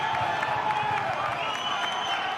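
Football crowd at an Australia Cup final between Heidelberg United and Newcastle Jets, a loud, continuous roar of cheering and applause filling the stadium, with talk over it.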